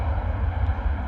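A Ryanair jet rolling for takeoff on runway 04 at London Stansted Airport, a steady loud low engine roar with broadband rushing noise, close and continuous, no talk over it.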